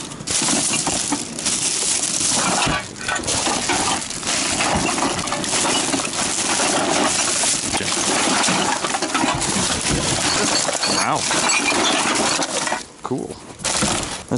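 Glass bottles clatter, clink and crunch against each other while being dug through in a curbside trash bin, a loud, dense, continuous jangle with brief lulls near the end.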